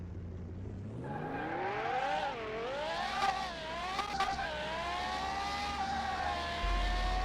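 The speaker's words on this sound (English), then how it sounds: "we're going to try to feather the throttle a little bit more" A Mayen T8 race car engine revs and climbs through the gears with a feathered throttle, its pitch rising, dipping and wavering as the car accelerates. A brief spoken word comes at the start.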